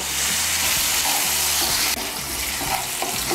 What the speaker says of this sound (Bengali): দিয়ে আলুগুলোকে আমি ভালো করে ভেজে নেব।